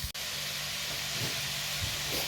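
Vegetables frying with ginger and garlic in a pan give a steady, close sizzle and hiss, with a brief knock near the start and no talk.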